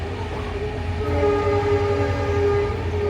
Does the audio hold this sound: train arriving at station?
yes